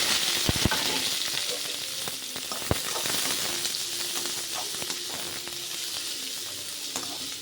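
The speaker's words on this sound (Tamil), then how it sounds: "நம்ம சாப் பண்ணி வச்சுருந்த ஆனியனை இதில் நான் போட்டுடுறேன்" Chopped onions dropped into a hot pan for egg pasta hiss into a loud, steady broadband sizzle, with a couple of sharp clinks early on; the frying continues evenly throughout, no voices present.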